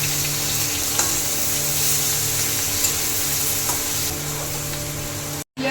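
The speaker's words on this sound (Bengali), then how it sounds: "পেঁয়াজ লাল লাল করে ভাজা হয়ে গেছে।" Sliced onion frying until reddish in oil with cumin, whole garam masala, bay leaf and dried chilli for a potato and fish curry, giving a continuous loud close sizzle with faint scrapes, no talking, and a brief dropout near the end.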